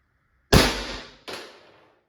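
Two sharp pops from a First Strike less-lethal launcher fired through a mock suppressor, the first louder with a decaying tail, the second following about three-quarters of a second later, close and with no talk.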